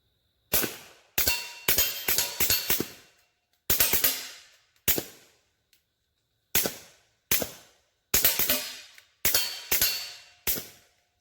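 Suppressed Kel-Tec P17 pistol firing 40 grain CCI standard velocity rounds, a string of sharp, close reports in quick bursts with short pauses between groups, each shot clacking metallically with a brief ringing tail.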